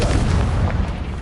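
A Confringo blasting spell bursts in Hogwarts Legacy, a loud booming explosion with a heavy low rumble that sustains and slowly fades over about a second, with no talking.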